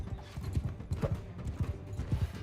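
Horse hooves clip-clopping in Bannerlord, a steady rhythmic trot of low hoof thuds repeating in pairs across the clip over a busy battlefield background, with a brief whinny-like tone near the middle.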